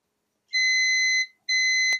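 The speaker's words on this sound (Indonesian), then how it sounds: "Kita ukur seperti biasa menggunakan mode buzzer." A multimeter in continuity buzzer mode sounds when probing shorted power pins on a burnt graphics card PCB, giving two sustained, loud, steady electronic beeps alone in silence, the second one ending in a sharp click.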